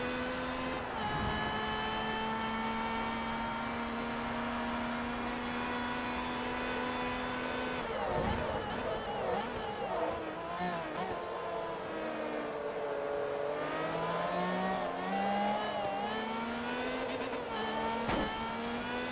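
Race car engine of a Ferrari F50-like car with a rear wing and roof scoop in Forza Motorsport 3: a steady, loud, whining roar that rises and falls with gear shifts, alone and continuous.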